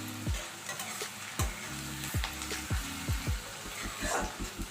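Onions frying lightly in a pan before ginger and garlic go in, a soft continuous sizzle with repeated scraping stirs of a spoon at a steady rhythm, nearby and fairly quiet, no talk.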